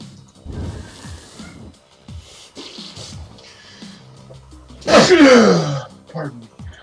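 A single loud, forceful sneeze bursts out after a stretch of soft, intermittent talking, followed by a brief breathy tail and more quiet speech.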